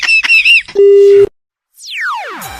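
A loud electronic telephone busy tone after hanging up sounds briefly, then a steady flat tone, a pause, and a falling warbling sweep.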